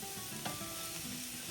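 Steady sizzling of mushrooms frying in a pan and releasing water, a continuous crackling hiss with one brief stir-like bump.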